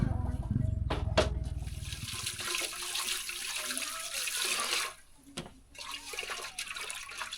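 Tap water running into a home in Laos, a steady rushing splash that holds for several seconds, then eases into a lighter trickle with brief knocks and handling sounds.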